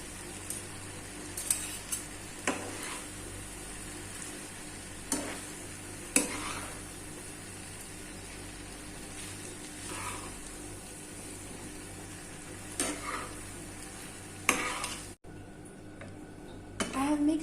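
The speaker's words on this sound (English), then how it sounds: "I have mixed all the noodles." Noodles are stir-fried and tossed in a pan, a quiet continuous sizzle broken every second or two by scraping and clacks of a utensil against the metal, with brief speech near the end.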